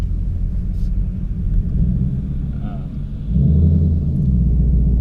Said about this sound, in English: I love the rumble that it makes with the new Resonator Delete.